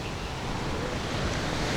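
Ocean surf washing onto a sand-and-rock beach at Nha Trang, Vietnam, a steady broadband roar of breaking waves with some wind buffeting the microphone, continuous and fairly loud throughout, with no talking.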